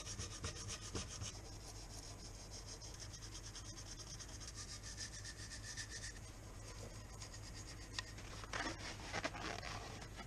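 A metal brake master cylinder bracket from a Mini is rubbed down by hand in close, continuous scraping strokes, rough and even, with short bursts of harsher abrasion toward the end.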